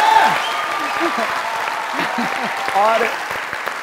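Studio audience applause on a comedy talk show, a steady, dense wash of clapping throughout with voices and laughter mixed underneath.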